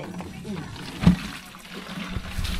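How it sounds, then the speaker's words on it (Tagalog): Spring water trickling steadily at its source, a natural spring used for drinking water, with a soft continuous flow and one brief louder splash near the middle. "Multi-purpose na itong tubig na dito sa bukal mismo."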